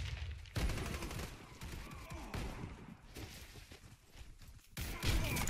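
Rapid automatic fire from the Mr. Cleaner weapon in Warface: dense, loud bursts of crackling shots rattle out almost continuously, broken by brief lulls, with no talk over them.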